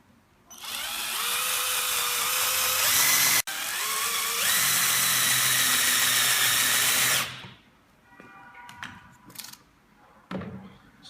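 A power drill drives 19 mm screws into a PVC window frame for a sandwich-panel prefab house, two long loud whining runs broken by a brief pause, then quieter clunks and handling noise close by.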